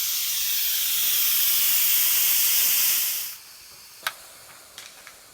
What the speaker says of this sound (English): When you turn the vent valve, it lets all the steam out.